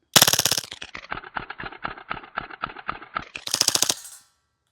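A WE M712 Mauser airsoft pistol fires on full auto, a loud rapid burst of about twenty evenly spaced shots over roughly four seconds, ending as the magazine empties with no talking.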